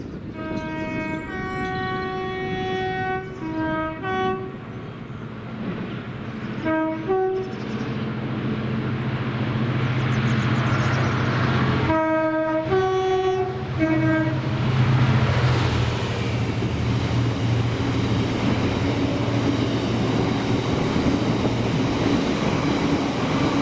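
A Class 66 locomotive hauling an empty cement freight train at Carstairs Station sounds its horn in several tonal blasts, then the deep rumble of the passing wagons builds and stays loud and close.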